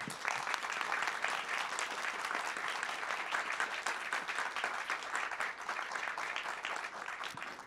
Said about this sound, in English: please give a warm round of applause to Secretary General Stoltenberg